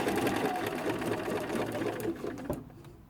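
A sewing machine runs steadily while quilting, stitching at a longer 3.5 stitch length, a close continuous rapid mechanical whirr and clatter that stops abruptly near the end.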